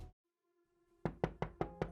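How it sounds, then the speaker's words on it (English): Five sharp, evenly spaced knocks on a door, close and distinct, coming right after a quiet moment with a faint tone. "awoke with a start to a knock at her door"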